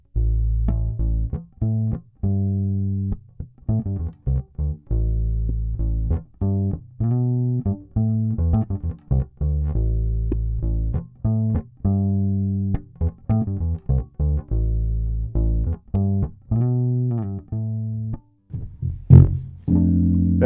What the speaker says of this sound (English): a vintage 64 Fender P bass with big fat labella flat wound strings on it